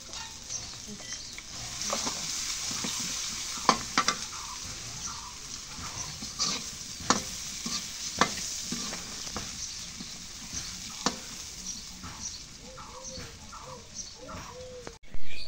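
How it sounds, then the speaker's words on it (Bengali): Cumin seeds and a bay leaf sizzle steadily in hot oil, a continuous crackling hiss with scattered louder pops, close by and alone. "অল্প করে জিরে দাও, এই তেজপাতা দিলাম"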